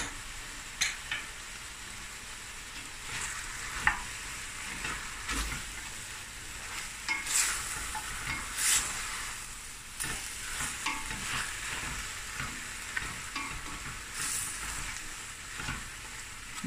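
Three greens stew browning in a pot gives a steady, moderate sizzle with soft frying crackle, plus a few louder stirring knocks and scrapes scattered throughout.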